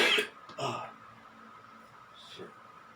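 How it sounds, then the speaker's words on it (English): A short, dry cough near the start, followed by a second softer cough and quiet breathing, then a faint throat sound near the end. "It's a dry cough."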